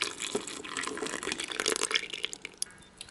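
Water mixed with yeast pours into a mixing bowl already holding flour, sugar, milk and eggs for dough, giving a close, splashy liquid gurgle that tapers off into a few drips.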